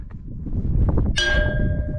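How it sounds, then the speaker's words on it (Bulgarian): A metal bell on a mountain saddle in Bulgaria's Rila range is struck once with a trekking pole, giving a loud clang that rings on over wind and outdoor rumble. "И това беше горната камбана."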